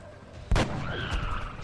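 A single sharp sniper rifle shot booms close and loud in XCOM: Enemy Within, followed by a ringing echoing tail and a faint rising electronic tone.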